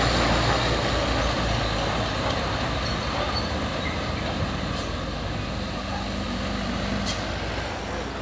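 A Hino Thermal King truck heavily loaded with iron climbs a steep hill, its engine a steady, dense low rumble with broad roadside noise and no clear shifts, close and continuous throughout.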